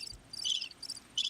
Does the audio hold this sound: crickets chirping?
yes